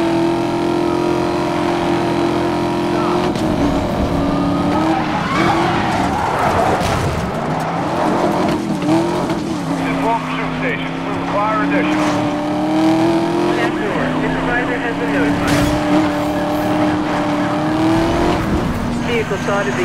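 Police chase in Need for Speed Most Wanted: a continuous roaring car engine with shifting pitch, rising and falling revs and brief tire squeals, loud and steady throughout, with radio dispatch voices talking over it.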